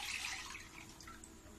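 Milk pours into a bowl with a soft, continuous splashing rush that gradually thins out, quiet and close by.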